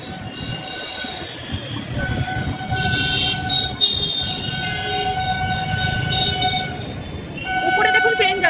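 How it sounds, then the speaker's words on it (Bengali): A train rolls past overhead at the Kalyani Expressway junction near the airport, its rumble and wheel screech loud and continuous with a horn near the end, over road traffic. "উপরে দেখুন ট্রেন যাচ্ছে।"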